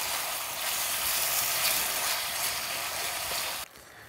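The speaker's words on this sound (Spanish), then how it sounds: "Mientras que esté cociendo la carne" Beef frying in a pan seasoned with pepper, cumin and oregano, a loud steady hiss of sizzling that stops abruptly near the end, with no talking.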